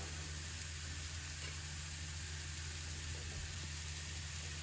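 Onion and garlic sizzle steadily in a hot pan with a pinch of salt added, a constant close frying hiss without pause and no talking over it.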